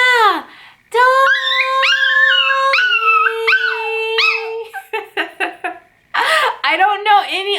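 A female dog howls along with her owner's singing, holding long rising and falling tones that climb as the human voice goes higher, then breaking into short yipping bursts, loud and close.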